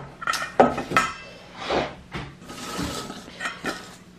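Fork breaking up canned pink salmon in a bowl, a series of light metallic clinks and scrapes against the dish at uneven intervals, close and fairly quiet.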